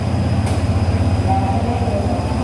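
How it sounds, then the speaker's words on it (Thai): Express train 133 from Bangkok to Nong Khai rolls past at night, a steady close rumble with rhythmic wheel clatter and a faint high whine, no talk. "สี่ทุ่มสิบนาทีขบวนรถเร็ว ที่หนึ่งสามสามกรุงเทพหนองคาย มาดูว่าจะเป็นหัวรถจักร"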